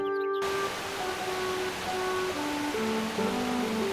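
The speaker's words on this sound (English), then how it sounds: "The ocean's pretty loud today." Steady ocean surf in the video game Rune Factory: Oceans forms a constant static-like wash, loud and close, with simple musical tones playing over it.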